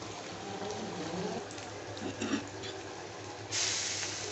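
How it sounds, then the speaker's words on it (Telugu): Chicken frying in a pan for Kadapa-style chicken pulusu gives a steady close sizzle and hiss, with a few brief spattering bursts and a louder surge of sizzling near the end. "చికెన్ బాగా వేగుతుంది"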